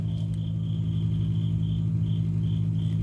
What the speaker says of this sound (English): what you're hearing over the crickets